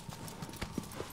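Horse hooves clip-clop at an even pace across the ground in the video game Shadow of the Colossus, soft and fairly quiet with low ambient game noise around the steps.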